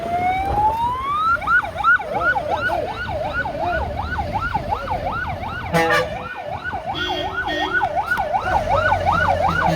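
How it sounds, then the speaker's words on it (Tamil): Wailing police siren sweeping up and down steadily and loud, over a constant roar of heavy traffic near the Pamban bridge, with a brief clatter midway. "அந்த ஆரன் சவுண்டு கேட்டுக்கிட்டே இருக்கும்"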